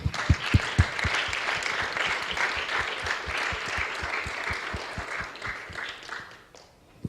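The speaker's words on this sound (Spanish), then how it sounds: "¿Cuántos pueden darle una ofrenda de palmas al Señor?" A church congregation applauds in praise, a dense patter of many hands with loud rhythmic low claps beating under it, steady for several seconds before tapering off.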